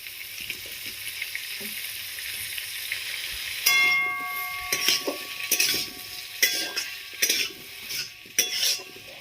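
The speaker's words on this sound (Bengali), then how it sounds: "এবার আমি এর মধ্যে দিয়ে দেবো এই কেটে রাখা টমেটোগুলো" Chopped tomatoes dropped into a pan of spicy potato curry (aloo chorchori): soft sizzling of oil, then a burst of frying as they go in, followed by repeated metal spatula clinks and scraping against the pan.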